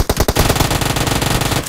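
Gunfire in the video game PUBG on the Livik map: a few sharp opening shots roll straight into a loud, sustained automatic burst of rapid, evenly spaced rounds fired up close.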